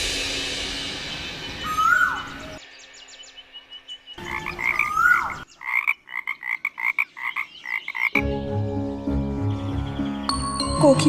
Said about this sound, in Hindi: किंतु फिर मेंढकों ने टर्राना आरंभ किया